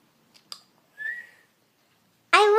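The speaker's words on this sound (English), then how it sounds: "I whistled." A person whistles a couple of short clear notes, then a louder sustained whistle near the end, close to the microphone in an otherwise quiet room.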